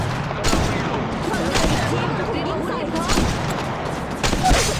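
Steady gunfire in the mobile shooter game Apex Legends Mobile, repeated shots crackling throughout over a constant busy game din, with bursts sharpening near the start, middle and end, and speech over it.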